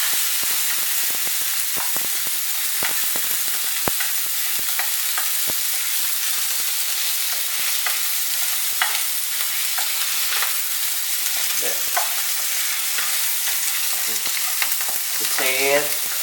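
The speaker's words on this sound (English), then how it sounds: "So in a medium-high heat, we're going to drop the mushrooms." Button mushrooms and white fungus sizzle and fry in a pan over medium-high heat, a steady crackling hiss broken by scattered pops and occasional stirring scrapes, close and continuous with no talking.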